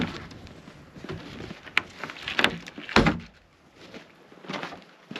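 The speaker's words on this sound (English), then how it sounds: "now I can open the door." Door of an unfinished passive solar greenhouse on an off-grid homestead being worked open, giving a few scraping knocks and a heavier thunk partway through, close by with no talk.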